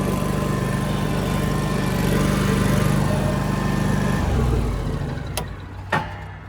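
A Ferris zero-turn lawn mower runs steadily with a loud, continuous engine drone, easing lower partway through before a couple of short sharp knocks near the end.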